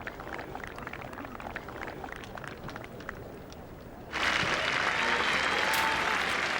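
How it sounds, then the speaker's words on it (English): Golf crowd at the 18th green of the 1998 Open at Royal Birkdale breaking into a loud, sustained ovation for Rose, rising suddenly out of a murmuring outdoor background. "the crowd gave Rose an ovation every bit as generous as enjoyed by Woods"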